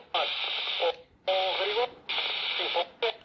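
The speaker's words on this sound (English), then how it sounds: "connect it to Quansheng, which you can see that it receives, but with many interruptions" Quansheng handheld radio receiving a transmission that keeps cutting out, bursts of garbled, band-limited sound broken by short silent gaps, four chopped segments in a row, near and moderately loud.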